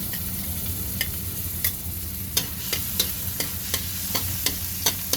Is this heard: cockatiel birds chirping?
no